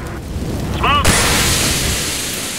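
A smoke grenade goes off in Counter-Strike: Global Offensive, a sudden loud hissing burst that swells in and then keeps spraying steadily as a broad roar, with a brief shout just before it.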